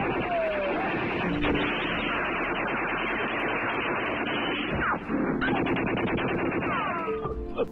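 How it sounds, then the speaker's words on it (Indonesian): A film battle scene in which fighters open fire on Dutch soldiers, with loud, dense bursts of gunfire layered over a continuous din of effects, staying intense throughout with no clear pauses. "William dan Ginting langsung menembaki para tentara Belanda itu."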